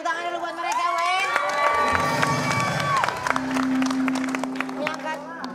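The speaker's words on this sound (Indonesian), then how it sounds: "Tepuk tangan dulu buat mereka, Wen." A studio audience on an Indonesian TV variety show cheers and claps while voices shout and talk loudly over the noise, with a lively, crowded and busy sound throughout.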